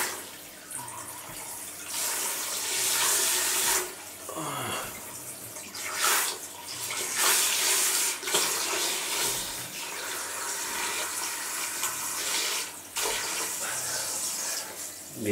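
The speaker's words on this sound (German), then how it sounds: "Aber es wurde schon Zeit, mal wieder hier Wasserwechsel zu machen" Water runs and splashes during a water change on a one-metre Eheim aquarium, a loud, close gushing that surges and drops in uneven bursts, with brief sharper sloshes along the way.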